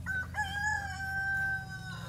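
A rooster crows a long, drawn-out call nearby while hens in a chicken pen cluck and murmur underneath, over a continuous low rumble.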